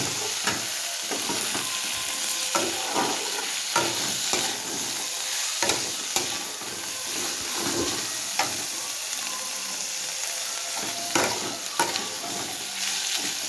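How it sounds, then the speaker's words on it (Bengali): Green beans lightly frying in a wok while being stirred for a mixed vegetable dish, a steady sizzle with recurring scrapes and clinks of the spatula throughout, close and continuous with no talk. "ধুয়ে রাখা বিনসটা বেশি ভাজি করবো না, হালকা ভাজা, হালকা করে নেড়ে চেড়ে নেবো।"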